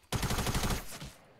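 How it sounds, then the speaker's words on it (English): Short rapid burst of automatic gunfire in Fortnite, about a dozen close, loud shots in quick rhythm lasting under a second, then a brief decaying tail. "Why are you shooting me?"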